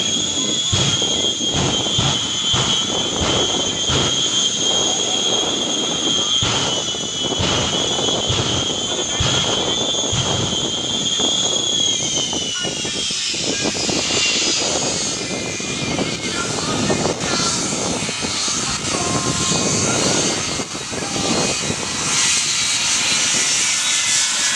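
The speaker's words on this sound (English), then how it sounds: "of the world's fastest jet truck" A jet-powered pickup truck at a Memorial Day air show in St Augustine, Florida roars loudly and continuously with a high whining turbine tone, holding steady for the first half before sweeping and spreading into a broader roar. Crowd noise sits underneath.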